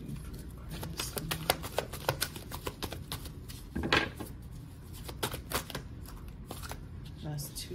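Tarot cards being shuffled by hand during a love reading, a steady run of quick papery riffles and flicks across the whole stretch, close and moderately loud, with a voice speaking intermittently underneath.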